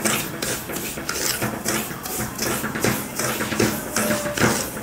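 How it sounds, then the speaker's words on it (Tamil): Semolina roasting in a pan with ghee and oil, stirred continuously so a spoon scrapes and rasps against the metal in a steady repeating rhythm, close and moderately loud with no talk. "ரவை வந்து வாசம் வர வரைக்கும் வறுக்கணும், ரொம்ப கருகிடக்கூடாது"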